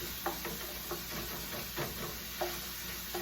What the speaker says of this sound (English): I'm just going to pound this a little bit more and break up that hamburger